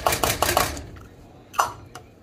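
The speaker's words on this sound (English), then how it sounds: "I'm going to add a cup of frozen corn to the mix" A cup of frozen corn tips into a pot of taco soup with a quick cluster of hard, rattling clatters up close, then a single louder knock after a short pause.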